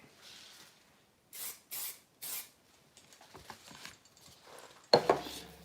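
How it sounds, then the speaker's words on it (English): Three short bursts of fixative aerosol sprayed over a color car sketch, each hiss lasting about half a second, close and fairly loud, followed by quieter handling noises and a sharp clatter. "Spray fix again."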